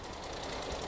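A locomotive engine running at a model engineering event, a dense, loud, steady chugging mechanical clatter that fills the whole second.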